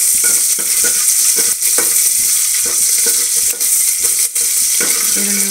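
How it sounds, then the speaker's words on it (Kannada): Sliced onions fry with salt and curry leaves in a hot pan, a loud, continuous sizzle broken by repeated sharp scrapes of a spoon stirring close by, with no talking. "ಉಪ್ಪು ಹಾಕಿದರೆ ಒಂದು ಸ್ವಲ್ಪ ಈರುಳ್ಳಿನೂ ಬೇಗನೆ ಫ್ರೈ ಆಗುತ್ತೆ"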